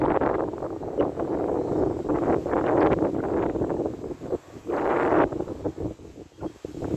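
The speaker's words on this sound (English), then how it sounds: "Very windy." Strong wind gusts at a large reservoir in North Wales buffet the microphone with a continuous roaring rush that swells and dips, loud and close.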